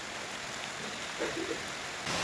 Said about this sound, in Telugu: చూడండి ఎంత వర్షం పడుతుంది